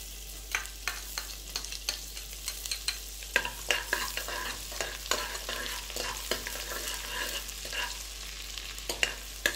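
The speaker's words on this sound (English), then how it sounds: "I'm adding the onion." Chopped onion sizzles in a hot pan for samba rava kitchadi, with a steady frying hiss broken by frequent scraping stirs of a spoon, close and fairly quiet, with no talking.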